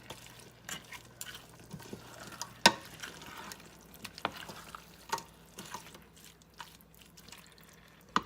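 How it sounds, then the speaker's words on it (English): Okra soup is stirred lightly in a pot, giving soft scattered clinks and wet sloshes with one sharp utensil knock, quiet and intermittent over a low background hum. "And we're going to give that a light mix."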